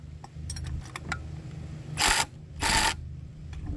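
A torque tool tightening the rods of a seawater membrane housing gives two short bursts of ratcheting clicks, each lasting a fraction of a second, close and fairly loud against a quiet room with faint small mechanical taps before them.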